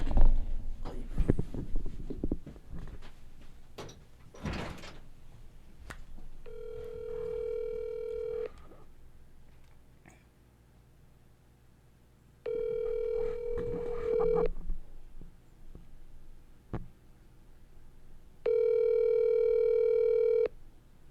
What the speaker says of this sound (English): Should we FaceTime him in quick?